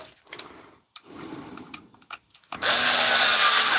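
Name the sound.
power tool driving screws into M18 battery pack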